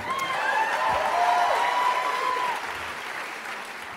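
Applause and cheering from a concert audience at a Christmas show, steady clapping from a crowd that swells, then thins toward the end, with a few whoops heard faintly in the hall.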